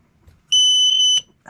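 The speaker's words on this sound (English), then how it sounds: "we should be able to plug in our BMS now, and well, it should beep" A battery management system gives one steady electronic beep of about half a second when it is plugged in. A short click follows, then a brief rustle, all close and clear with no voices.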